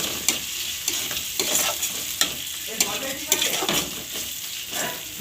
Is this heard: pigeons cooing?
no